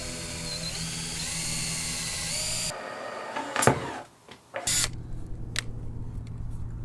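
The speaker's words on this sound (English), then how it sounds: "Then it was back to the old familiar and tedious drilling process." A power drill whines steadily at high pitch into fiberglass on a sailboat, then stops; short bursts of drilling and grinding follow with brief clicks and pauses.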